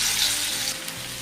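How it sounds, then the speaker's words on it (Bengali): Diamond-cut pieces of lentil cake frying in hot oil, a steady close hiss of sizzling that eases slightly toward the end, with no voices. "তেল গরম হয়ে গেছে, এবার একটা একটা করে এগুলো ভেজে নেব।"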